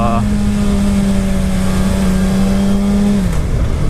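A 2019–2020 Suzuki Hayabusa motorcycle engine pulls steadily in second gear at low RPM on a highway, a loud sustained drone whose pitch holds, then drops near the end as it shifts.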